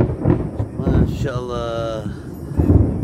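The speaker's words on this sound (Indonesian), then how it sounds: "Suara guntur menyambut kita." Thunder rumbles low and broad over a mountain hiking trail on Mt. Burangrang via Legok Haji, a rolling growl that swells and fades beneath a hiker's voice.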